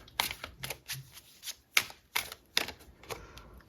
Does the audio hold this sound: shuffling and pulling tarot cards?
yes